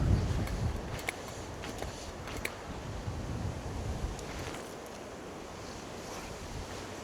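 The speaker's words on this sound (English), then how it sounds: "This wind." Wind gusts across the microphone beside the River Tweed during fly fishing, a steady rushing blow with faint water movement and a few brief knocks, easing toward the end.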